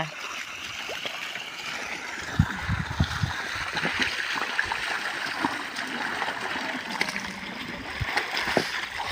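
Irrigation water runs and splashes steadily through a shallow channel watering lemon trees, with a constant trickling rush and occasional louder splashes.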